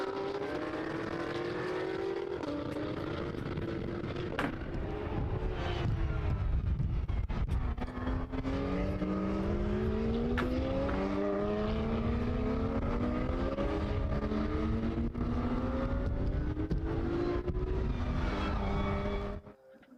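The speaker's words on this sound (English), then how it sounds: "So here they come on their formation lap, and the car's just getting ready for the start of this race." Porsche race cars on a formation lap around the Portimao circuit, engines droning loud and continuous as several cars pass with rising and falling pitch sweeps, overlapping throughout before cutting off at the end.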